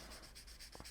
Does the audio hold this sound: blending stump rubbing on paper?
yes